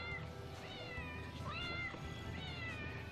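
A cat on a boat in a film meows repeatedly in drawn-out, complaining cries, fairly faint and set over a steady low background hum.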